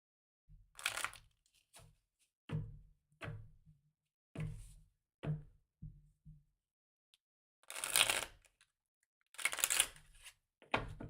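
Oracle cards being shuffled by hand, a series of short riffling bursts and taps with pauses between them, close and fairly quiet with no talking.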